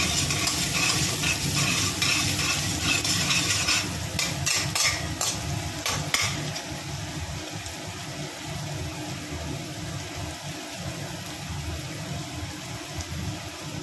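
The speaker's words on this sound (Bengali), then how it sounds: "পেঁয়াজ কুচির মধ্যে একটু নুন দিয়ে দিচ্ছি যাতে এটা তাড়াতাড়ি ভাজা হয়ে যায়" Chopped onion sizzling in oil with a pinch of salt, a dense continuous frying hiss close up, broken by a quick run of utensil clicks and stirring taps in the first half.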